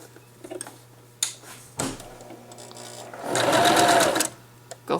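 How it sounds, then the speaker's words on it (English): A sewing machine runs a steady stitching burst of about a second while sewing a duck-shaped pillow, preceded by a few small clicks and handling knocks, close and fairly loud with no talking. "you're going to sew all the way around, slowly following the curve"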